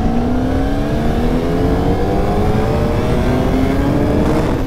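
A 2024 Honda Fireblade and a Yamaha R1 accelerate hard in second gear from about 20 mph, engines rising steadily in pitch with a loud, continuous roar that stays close throughout.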